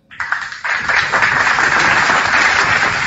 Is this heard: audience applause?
yes